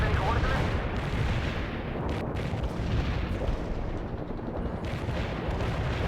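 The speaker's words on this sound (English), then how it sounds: "Artillery strike on the way." Artillery barrage fire in the World in Conflict video game, a dense, continuous roar of booms and blasts that fills the whole clip, with faint game voices mixed underneath.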